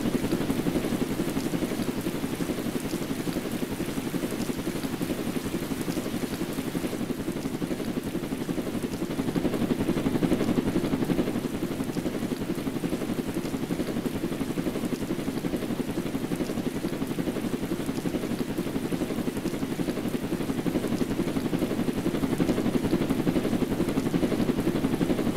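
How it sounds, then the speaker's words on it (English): A helicopter in a video game stunt flies through a tunnel, its rotor thrumming in a steady, continuous drone, its low chopping hum holding close and even with no voices. "driving a helicopter in a tunnel."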